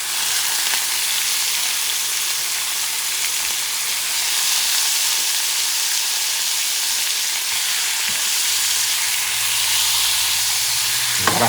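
Pieces of cod fry in a hot pan with a steady, close sizzle and crackle that runs unbroken, joined by a few soft knocks of stirring.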